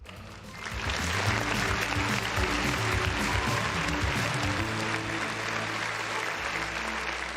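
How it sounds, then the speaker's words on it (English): A sustained round of applause, dense clapping that rises quickly and holds steady for several seconds at close range, with no talking over it. "round of applause for the folks in the chat"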